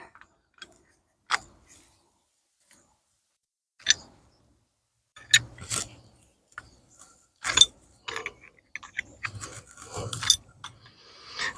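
Wrench work tightening a hose fitting on a pond aerator, heard as sparse, close metallic clicks and ratcheting scrapes in short bursts separated by quiet gaps, growing busier toward the end.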